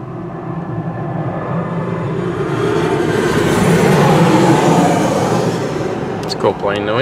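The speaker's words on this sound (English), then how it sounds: "Plane noise." An airplane passes: a broad roaring rumble swells steadily and peaks midway, like a jet overhead, with a brief sharper sound near the end.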